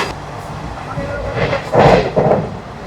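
Special passenger train bound for Puri heard from aboard, a rumbling carriage ride with rising bursts of rattling and clatter, close and fairly loud.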